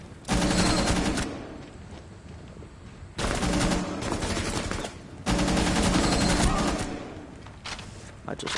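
Automatic gunfire from a video game rattles in three long sustained bursts, loud and close, separated by brief lulls, with a player talking.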